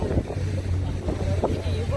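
A speed boat runs on a lake in Queenstown, its low steady motor rumble mixed with rushing water and wind buffeting the microphone, close and continuous.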